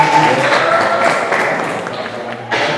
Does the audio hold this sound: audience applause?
yes